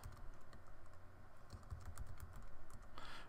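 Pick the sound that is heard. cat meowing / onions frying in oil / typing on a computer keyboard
typing on a computer keyboard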